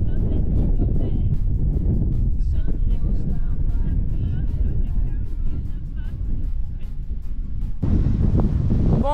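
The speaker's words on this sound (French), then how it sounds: "je sais pas si vous allez entendre grand chose parce que le vent c'est terrible en ce moment" Strong wind buffets the microphone in a constant low roar, loud and unbroken, with a sudden gust near the end.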